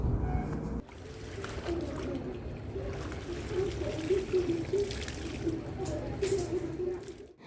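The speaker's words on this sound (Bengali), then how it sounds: "ঝটপট করে জামা কাপড়গুলো কেচে নিয়ে এবার ধুয়ে নিচ্ছি" Clothes being rinsed by hand in a basin or bucket of water outdoors, with steady sloshing and splashing close by and faint background noise, no clear talking.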